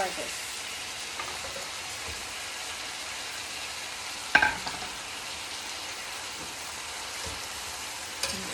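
Asparagus frying in a large flat-bottom wok, a steady quiet sizzle running throughout, with a brief louder clatter midway and another near the end.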